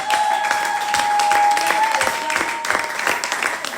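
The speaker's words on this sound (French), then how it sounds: "Applaudissez pour le Seigneur" Congregation clapping and cheering during a lively French-language church worship service, dense applause sustained throughout with a faint tonal voice or instrument line running underneath.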